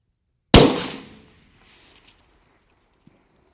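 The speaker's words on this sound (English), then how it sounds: "I want to try about a bracket this target, basically shoot left edge." A single sharp, loud long-range rifle shot at a target, ringing out and decaying over about half a second, followed by near silence and a faint distant tick.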